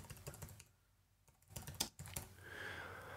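Short bursts of keyboard typing as a keyboard shortcut is entered on a computer keyboard in Logic Pro X, with quick clustered clicks near the start and again around the middle, fairly quiet, with no voices.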